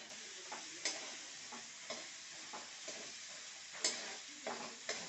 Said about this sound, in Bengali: এখন মশলাটা ভালো করে কষিয়ে নিচ্ছি